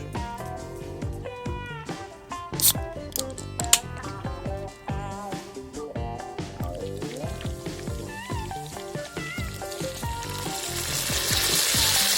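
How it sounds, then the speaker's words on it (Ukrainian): A second batch of pork belly fries in a pan, a sizzling hiss under loud music that grows stronger toward the end. "Першу партію дістали і обсмажуємо другу."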